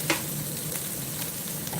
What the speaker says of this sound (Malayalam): നല്ലോണം ഇത് വഴറ്റണം നന്നായി വാടി